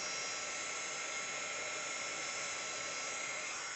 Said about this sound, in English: my heat gun's not real heated apparently, because it's going to take a while